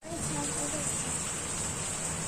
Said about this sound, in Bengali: বাইরে কিভাবে বৃষ্টি হচ্ছে দেখো, আর বিদ্যুৎও চমকাচ্ছে তার সঙ্গে পুরো